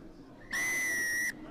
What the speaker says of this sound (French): Et nouvelle pénalité. Sifflé contre Avignon.